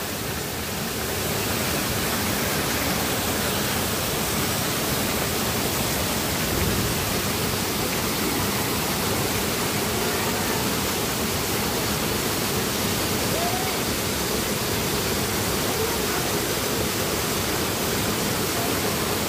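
A broad, constant roar of cascading water from the biggest falls at Apatlaco, Puebla, loud and close, with no voices over it.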